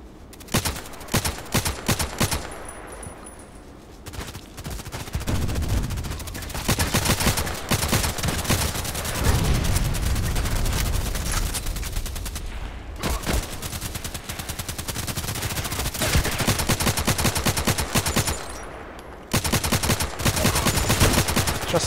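Gunfire in the online shooter game Contract Wars: rapid bursts of automatic fire and single shots crack out repeatedly for the whole stretch, loud and close, with brief lulls between volleys and no talking.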